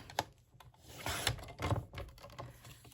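Paper being cut off in a small strip while making a folio-style mini album for scrapbooking, heard as a few short crisp snips and scraping strokes close up, fairly quiet, with no talking.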